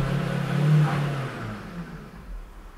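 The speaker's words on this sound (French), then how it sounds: "il y a toujours une voiture" A car engine revs outside, a mid-pitched growl that swells briefly and then fades, heard from a distance at moderate volume with no one talking.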